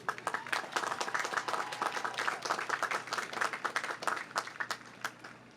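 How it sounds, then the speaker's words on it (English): Audience at a 2010 William Paterson University commencement ceremony claps for honorees, a moderately distant round of applause with distinct individual claps standing out, fairly quiet and steady without speech. "Give them a round of applause."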